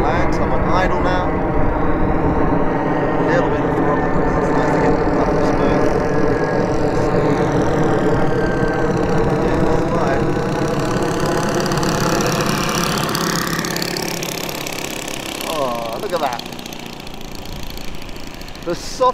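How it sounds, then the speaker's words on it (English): A Magnum 91 glow engine on a 1/4-scale Klemm L20 radio-controlled model plane idles with a steady buzzing drone whose pitch wavers slightly as the plane comes in to land. "That Magnum 91 running like a Swiss watch. Alright, I am going to land, so I'm on idle now."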